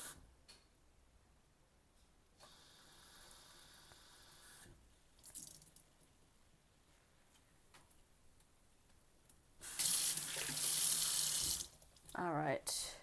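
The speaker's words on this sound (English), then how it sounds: "So I'm going to add 2 cups of water to this." Water from a tap pours into a jar of pancake mix in a kitchen, a loud, steady gushing stream for about two seconds near the end after quiet handling sounds, followed by a shorter splashing burst.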